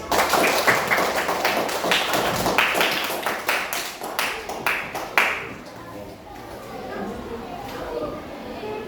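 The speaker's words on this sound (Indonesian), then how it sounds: "kasih tepuk tangan dulu" A primary school class claps hands in a quick burst of sharp, uneven claps that fade out, followed by quieter classroom noise with faint voices.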